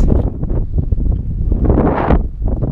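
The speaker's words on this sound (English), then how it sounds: "It's windy, it's overcast." Gusty wind at a lake on an overcast day buffets the microphone in loud, low rumbling bursts that rise and fall, with a stronger gust near the end and no talking.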